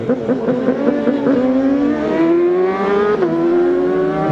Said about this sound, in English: rev limiter is really working